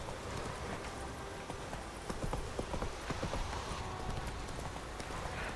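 Geralt's horse clip-clops along at a steady walking pace in The Witcher 3, the hoof beats clear and close over a constant wash of game ambience and music.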